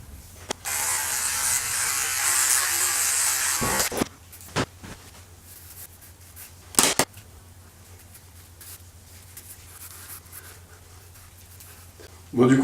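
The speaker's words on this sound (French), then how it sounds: "Visiblement, il faut rincer le rasoir." Electric razor buzzing loudly and steadily for several seconds, then cutting off, followed by a few sharp knocks and clicks against a quiet room background.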